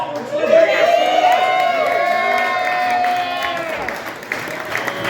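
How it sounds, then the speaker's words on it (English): A crowd at a pinball tournament applauds and cheers, with a long whooping whistle-like shout rising over the clapping and voices calling out before the noise thins toward the end. "a big round of applause to Jeff Fuel"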